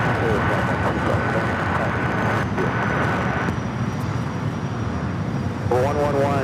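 A British Airways airliner taxiing at LAX, a loud, steady jet engine roar with a constant whine that fills the whole stretch, while air traffic radio voices talk over it.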